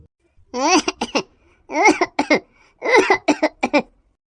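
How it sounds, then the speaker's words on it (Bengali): A cartoon character coughs in three harsh, voiced bursts, each breaking into quick repeated hacks, as if a fish bone were stuck in the throat; loud and close with short silences between. "তুই কাশছিস কেন বলতো"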